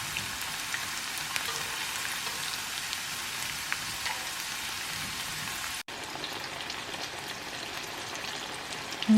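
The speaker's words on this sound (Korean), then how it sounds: "저 지금 감박사 하려고 마늘 마늘 끓이고 있어요." Garlic sizzling in oil in a pan for gambas, a steady bubbling crackle throughout, close and alone.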